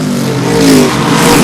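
Modified race cars racing at Seekonk Speedway in a True Value Mods 100 event, engines roaring loud and close as one car swells and revs past, with no talk.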